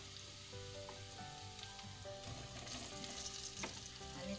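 Eggplant pieces hit hot oil with green chillies in a Marathi vangyachi bhaji, giving a close, steady sizzle and crackle with a few stirring scrapes in the pan, alone without talk.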